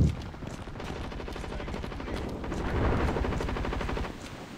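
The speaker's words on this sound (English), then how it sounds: "This the scatling gun takes forever to shoot" A scatling gun in the video game Zombies Monsters Robots fires in a rapid, continuous burst of gunfire for several seconds. The rattling shots are loud and dense, and no one speaks over them.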